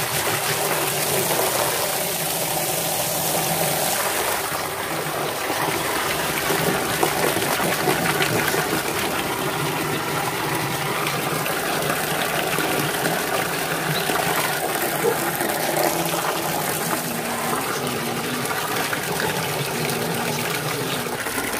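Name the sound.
water being filled into a fish tank aquarium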